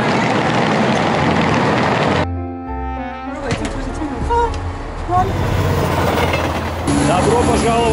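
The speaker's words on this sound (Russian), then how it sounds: "Отходит поезд, который за час нас доставит прямо в Оксфорд." Rumbling train departing for Oxford with abrupt shifts in tone, as if cars roll past and pull away, with voices talking over parts of it.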